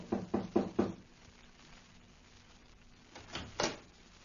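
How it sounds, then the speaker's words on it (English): Four brisk knocks rap on a front door in an old-time radio drama, then a brief quiet and a couple of softer thuds, close and moderately loud. "knocked on the door."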